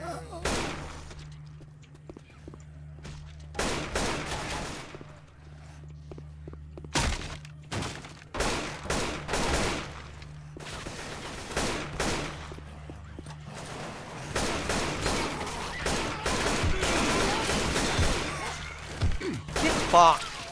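Bursts of AK rifle fire in Left 4 Dead 2 on a modded map, loud clustered volleys repeating through the stretch over a steady low hum, with players talking between shots.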